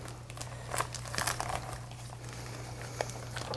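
Plastic wrapping is pulled and crinkled off a thawed turkey, giving soft irregular crumpling and tearing rustles with a few louder crackles, close by and without talk.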